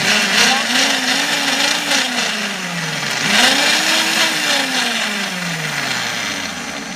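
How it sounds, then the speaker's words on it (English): A blender runs loudly and steadily while blending garlic, limes and olive oil, its motor pitch rising and falling as the blade works through the contents, with a brief dip midway. "So I put it in my blender cup. It's gonna get loud, sorry."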